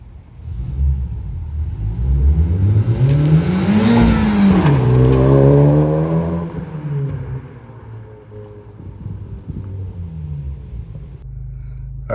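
A 2023+ Honda Civic Type R with an HKS Hi-Power catback exhaust launches hard, its engine note climbing loudly through the revs, dropping at a shift and pulling again before settling into a lower steady drone.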